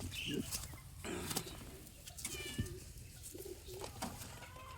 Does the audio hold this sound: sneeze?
no